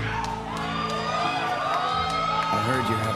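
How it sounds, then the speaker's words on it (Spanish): An E3 2019 audience screams, whoops and cheers during a Final Fantasy VII Remake showing, the crowd noise rising over loud music and a voice from the presentation. "Tiene unos gritos ahí de fanboys."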